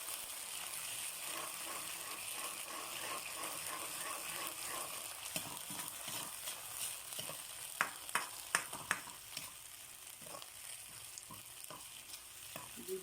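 Sardines and egg fry in a pan as a utensil stirs them, a steady soft sizzle under scraping and tapping strokes that grow sharper and more frequent midway, with no talking.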